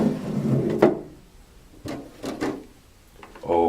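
A clear plastic tank drawer is pulled from the bottom of an Eco Master water machine, with a few sharp plastic knocks and slides spaced across the clip, close and fairly quiet, without talk.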